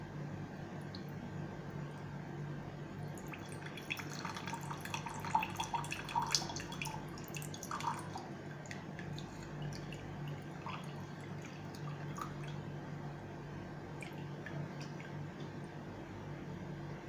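Quiet water trickling and dripping as it is poured slowly through a strainer, with a few brighter drips clustering in the middle over a low steady hum.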